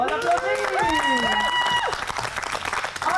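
Audience applause for an improv player at an improv night, a crowd clapping and cheering under a presenter's voice, with whoops rising over the claps.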